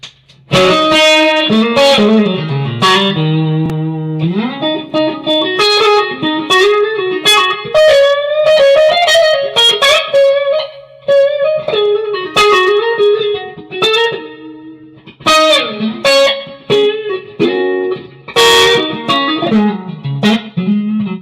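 Clean electric guitar played on the neck pickup, with a warm, rounded tone and reverb, playing melodic phrases and chords, loud and alone.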